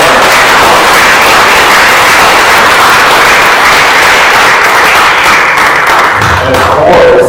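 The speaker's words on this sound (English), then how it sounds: "Let's give a big round of applause." Loud, sustained applause from a church congregation at a Sunday service, a dense wash of clapping filling the whole stretch without pause and easing only slightly near the end.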